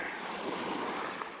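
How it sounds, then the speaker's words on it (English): A steady breeze rushes over Lake Pepin on a Sunday morning sailing outing, a soft, even wind hiss close to the microphone with faint water beneath and no talking. "got a nice breeze"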